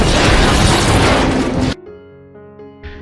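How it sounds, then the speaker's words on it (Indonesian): A truck explodes in a film scene: a loud, sustained roaring blast for nearly two seconds, then abruptly cut to quieter ringing tones and a soft hit. "sebuah truk tiba-tiba meledak."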